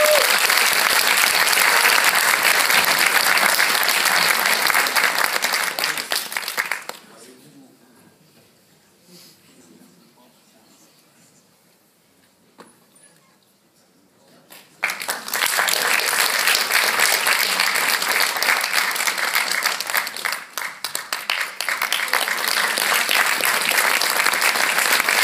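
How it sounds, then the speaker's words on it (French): Loud, dense audience applause at an award ceremony during a seminar prize-giving, sustained for several seconds, then dropping to a quiet lull before a second strong burst of clapping resumes and continues to the end. "On peut l'applaudir."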